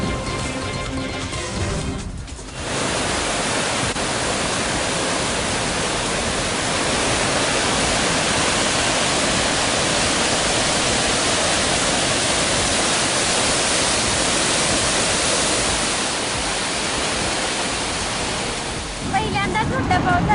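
Floodwater from streams and drains swollen by heavy monsoon rain in Satara rushes in a loud, continuous roar that fills the whole scene.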